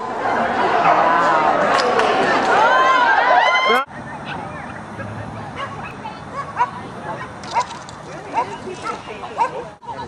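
Dogs bark and yip amid a noisy crowd at a dog agility trial, with excited chatter and a loudspeaker voice over the commotion.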